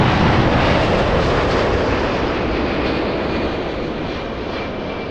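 A United Airlines jet airliner, flight 33 from Narita, takes off at LAX with a loud, close, steady broadband engine roar that eases only slightly over a few seconds, with no voices.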